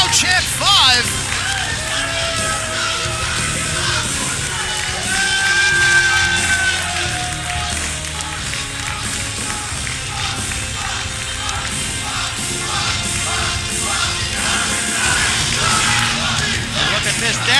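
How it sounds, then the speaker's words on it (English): Wrestling crowd at a Capitol Wrestling show chanting and yelling in a steady, dense roar as a wrestler enters, sustained and fairly loud throughout, with some cheering swells. "you can hear the crowd chant 5"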